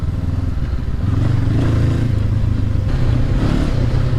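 A Suzuki V-Strom motorcycle accelerating on an Oregon road, a steady loud engine drone that rises slightly as it pulls away, heard alone without talk.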